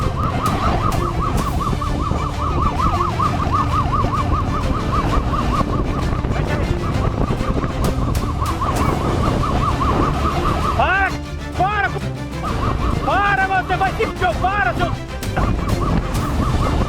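Police car siren wailing during a motorcycle chase in Brazil, a loud steady rising-and-falling wail with street noise, then a shorter pulsing yelp pattern near the end.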